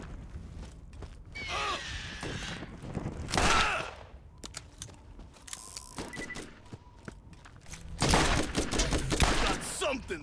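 Gunfire from the video game Borderlands arrives in separate loud bursts with quieter stretches between them, and a voice speaks briefly.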